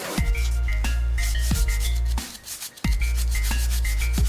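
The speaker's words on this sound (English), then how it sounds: "take some fine sandpaper and sand it all the way around" Fine sandpaper rubbed by hand around the rusty hub surface of a 1994–2012 Mustang wheel hub, repeated rhythmic rasping strokes close up with a short pause midway.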